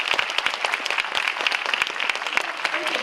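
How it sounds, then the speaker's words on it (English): Audience applause at a forum in a Taipei university hall, a steady patter of many hands clapping at moderate distance throughout the short clip. "Let's give them a big applause."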